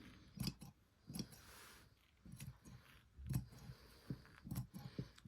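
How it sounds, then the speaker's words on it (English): Sharp scissors snipping white tailor's tacking thread on fabric: a handful of quiet, crisp, separate clicks spread irregularly across a few seconds, close up and faint. "You're literally just cutting the white Tailor's tacking thread."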